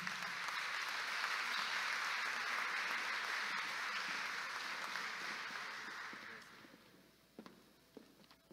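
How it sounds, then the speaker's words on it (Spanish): A ceremony audience for the swearing-in of new members of Peru's engineers' association breaks into sustained, dense applause. It fades out near the end, leaving a few scattered claps. "Recibimos con un aplauso"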